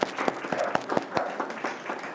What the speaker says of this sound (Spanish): Vamos a dar un aplauso